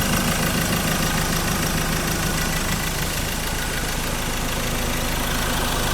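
A Ford Ranger XLT pickup's diesel engine, fitted with a straight pipe exhaust, idles steadily with a rough, rumbling knock, close and loud, no talking over it.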